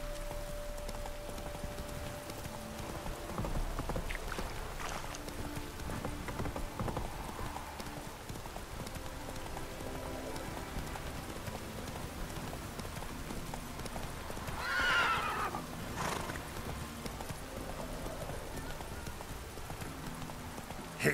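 Roach, a horse in The Witcher 3 video game, gallops with rapid, rhythmic hoofbeats over a soft rain-like backdrop, with a brief whinny partway through; the sound is fairly quiet and continuous.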